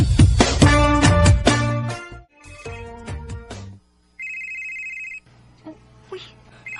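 Mobile phone ringtone for an incoming call, a melodic tune in repeated bursts that starts out loud and clear, then gives way to a steady electronic tone.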